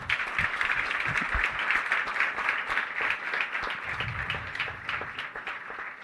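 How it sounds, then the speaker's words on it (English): A conference keynote audience applauding, a steady full wash of many hands clapping at once, sustained and fairly loud throughout with no talk. "can we give a huge round of applause for not just this year"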